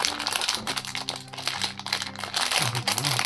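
A Kickingummy Gochizo gummy packet is torn open and crinkled up close, with loud, uneven plastic crackling and rustling throughout.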